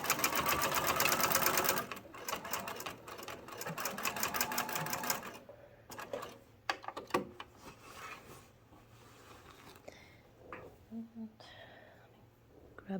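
A sewing machine stitches a patch onto a jacket, running in a fast, loud, even whir for about two seconds, then short stop-start bursts and rustling fabric handling, with quiet talk in the gaps.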